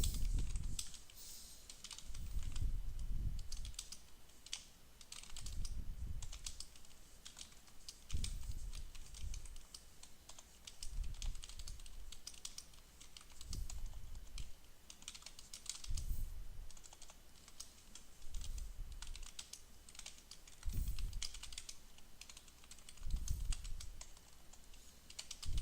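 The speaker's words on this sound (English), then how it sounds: "Typing in the chat." Steady keystrokes on a computer keyboard during a Fallout New Vegas live stream, typing a chat message in uneven bursts with brief pauses, close and moderately quiet, with no voices.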